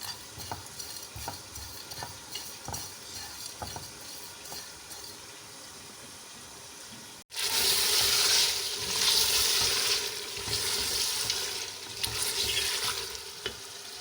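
Masala and mutton roasting in a pot for aloo gosht: quieter scraping and stirring at first, then a sudden loud, steady sizzle that carries on to the end.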